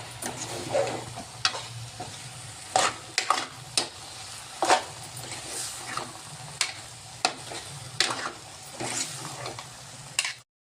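Shredded cabbage being stir-fried in a pan with spices, a soft steady sizzle broken by repeated scraping stirs of a spatula, close and fairly quiet.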